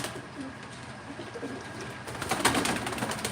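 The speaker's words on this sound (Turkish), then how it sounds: "Gerçekten arkadaşlar güzel kuşlar." Pigeons coo continuously at a live pigeon auction, a close, steady murmur of throaty calls that swells louder toward the end amid room ambience.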